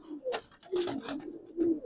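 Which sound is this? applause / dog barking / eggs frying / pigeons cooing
pigeons cooing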